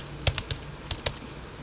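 A few separate keystrokes on a computer keyboard, typed while working in Jupyter Notebook, come close and crisp in two short bursts over a quiet background.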